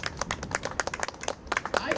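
Scattered hand claps from a small outdoor crowd at a Julian Assange press-freedom rally in Washington DC, uneven and fairly close, with voices mixed in.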